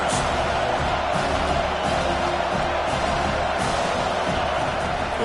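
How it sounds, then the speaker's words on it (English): Football stadium crowd at a college game, a dense, continuous roar of cheering at steady loudness throughout, heard as a wash of noise with no clear individual voices. "Listen to the crowd energy here in the early going."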